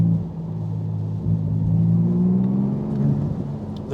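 A Porsche GT2 RS driving in the rain surges forward as its turbo boost comes on suddenly, a deep engine rumble climbing steadily in pitch and swelling, heard from inside the car with no talk.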